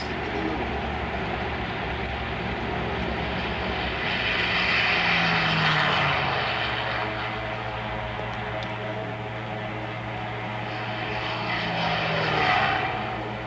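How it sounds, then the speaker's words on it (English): Propeller engines of Japanese carrier fighter planes taking off in the Pearl Harbor attack drone loudly and steadily, swelling and fading as planes pass, with a constant low hum underneath. "Still undetected, Nagumo turned his carriers into the wind and launched his planes."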